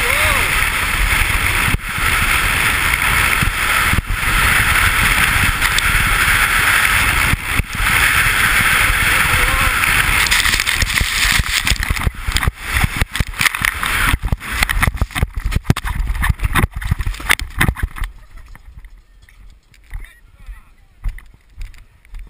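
Person riding a shovel downhill in a snow shovel race, a steady close rush of scraping and wind that runs loud and continuous, then turns choppy with bursts before dropping away near the end.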